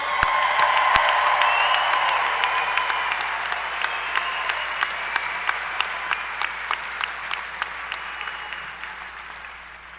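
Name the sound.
applause for the graduating class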